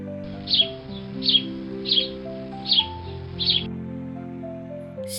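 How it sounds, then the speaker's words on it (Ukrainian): Eurasian bullfinch calling in winter, five soft, evenly spaced piping notes over quiet background music, then the music continues alone. "Снігур."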